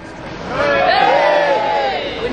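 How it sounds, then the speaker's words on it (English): A crowd at an outdoor climate rally in London cheers and whoops, the roar swelling after a moment and holding loud before easing slightly, with shouting voices mixed into the babble. "So we're going to cheer."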